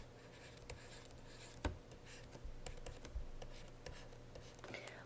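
Someone taps numbers into a calculator. The keypresses come as faint, irregular clicks over a quiet background hiss.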